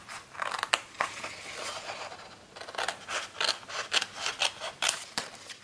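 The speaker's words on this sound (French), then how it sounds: "L'étiquette mémorise, on va la couper." Scissors cut through a paper label during an album craft project, with repeated snipping strokes in a steady rhythm. The cuts are close and clear, with no talking.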